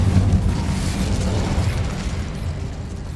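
Incendio fire spell blasting in Hogwarts Legacy, a low rumbling burst of flame that starts strong and fades into a sustained crackling roar, close and fairly loud.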